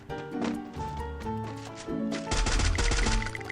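Gunfire in the mobile battle game Free Fire, with a burst of rapid, loud shots in the second half over tonal game music and effects.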